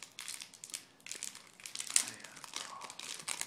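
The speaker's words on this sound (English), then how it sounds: "So without any further ado, I'm going to open these cards." Crinkling foil wrapper of a Spider-Man trading card pack being opened, with continuous close crackling and rustling that stays fairly soft throughout.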